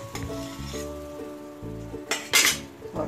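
Malpua lifted out of a ghee-greased pan, a soft ongoing sizzle broken by a few metallic clinks and a bright scrape of the utensil against the pan, close and brief.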